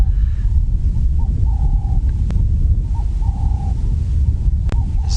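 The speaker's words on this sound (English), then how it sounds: "you're loving the sound of the Cape turtle dove in the background" Cape turtle doves calling in the African bush at sunrise, two birds answering each other with soft, repeated mid-pitched coos over a steady low rumble of wind and vehicle noise.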